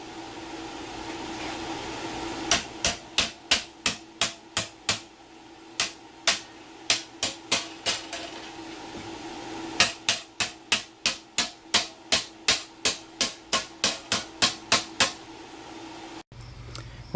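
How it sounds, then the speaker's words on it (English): Someone hammers sheet metal clamped in a bench vise for an automotive restoration, producing two long runs of sharp, ringing metallic blows in a quick, fairly regular rhythm, close and loud with a short pause between the runs. "I'm going to go with good old-fashioned bench vise and hammer"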